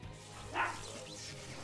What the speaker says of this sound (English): you hear my dog barking?